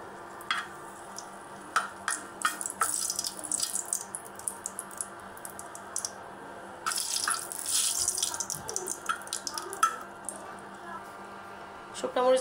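Two dried red chilies sizzle in hot cooking oil with quiet, uneven bursts of crackling and spitting, faint and close, over a low background hum.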